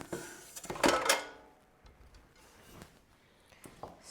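Potatoes coated in oil and seasonings tumble into a large 6-quart glass air fryer dish, a Ninja Crispi Pro. A loud burst of clattering knocks comes first, followed by a few fainter taps and scrapes.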